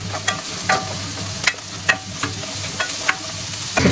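Mustard seeds, chopped onion, curry leaves and two green chillies fry in hot oil in a pan, a soft steady sizzle broken by a series of sharp crackles and stirring clinks at close range.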